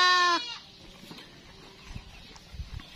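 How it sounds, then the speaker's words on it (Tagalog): A goat bleats loudly and close at the start, a short harmonic cry, then the farm goes quiet with scattered soft thumps and rustles; local-breed goats and a breeding buck are kept on a Philippine farm. "Yung mga kambing natin."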